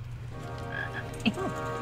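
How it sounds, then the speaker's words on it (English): A frog croaks in the King's Quest video game, a short game sound effect with a low croak and a brief chirp near the end, fairly loud over a steady background hum. "We have a frog."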